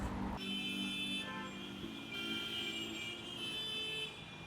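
Busy Mumbai street traffic with car horns honking repeatedly, long sustained blasts overlapping one another against a steady roar of engines.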